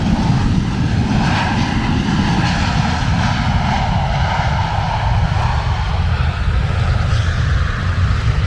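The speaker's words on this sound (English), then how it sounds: "Plane landing in the rain." A plane landing in the rain at a small Montego Bay airport strip, heard as a loud steady engine roar with broad rushing noise beneath, continuous and close throughout, no talking.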